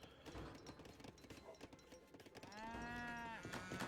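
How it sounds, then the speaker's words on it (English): Cows mooing in a strategy video game, a single drawn-out low moo standing out after scattered clicking and game sounds, moderately loud and near. "Cows right here."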